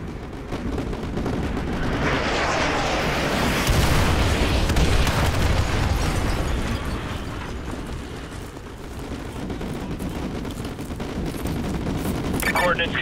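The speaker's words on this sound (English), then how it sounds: "Fire mission received. Artillery inbound." A dense artillery barrage rumbles in Call of Duty Modern Warfare 2 Remastered, mission Exodus: sustained loud booms, crackling explosions and gunfire blend into a continuous roar, with radio voices mixed in.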